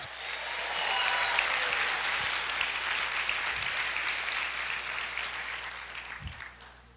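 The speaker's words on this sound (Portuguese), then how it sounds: "Aplauda o Senhor" A church congregation breaks into sustained applause, a dense wash of many clapping hands that swells and gradually fades, with a few low thumps underneath.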